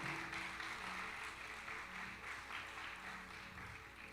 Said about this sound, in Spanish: Vamos a darle palmas de alabanza al Señor Dios Todopoderoso